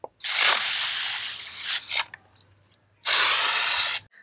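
Two long bursts of pressurized hiss from a pesticide sprayer spraying plants, close and loud, separated by a short pause with faint mechanical clicks.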